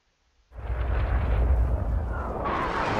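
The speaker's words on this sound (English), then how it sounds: "Artillery got me." An artillery shell detonates in Rising Storm 2 on the Cu Chi map, a sudden loud blast after near silence that rolls into a long, heavy, sustained rumble.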